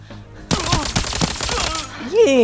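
Rapid bursts of submachine gun fire in the shooter game Arena Breakout, loud and close, a quick string of shots with a short tail at the end.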